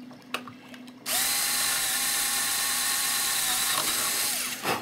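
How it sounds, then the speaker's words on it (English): A power drill whirs into life after a couple of clicks, drilling a bolt hole in a Phoenix Models Sukhoi SU-31 model aircraft, running at a steady high whine for several seconds before winding down, close by. "and I want to drill that one."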